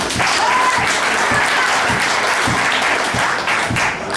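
An audience at a poker final table in a casino setting applauds warmly for a player, a loud continuous roar of clapping hands held steady throughout with faint cheers mixed in.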